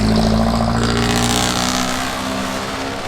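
Jeepneys drive by near the Mall of Asia in the Philippines. Their engines roar loud and close in a dense rumble that eases slightly as they pass.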